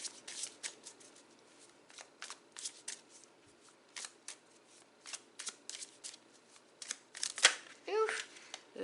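Tarot cards shuffled by hand in a steady run of crisp riffling bursts and soft slaps, close and fairly quiet, ending in a louder flurry with a faint voice at the end.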